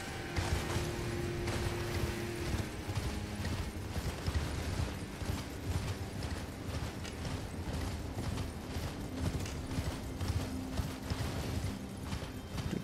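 Steady clip-clop of horse hooves while riding a horse in Elden Ring, a continuous galloping rhythm with mechanical creaks, alone without talk.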